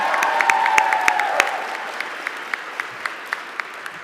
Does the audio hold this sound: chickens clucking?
no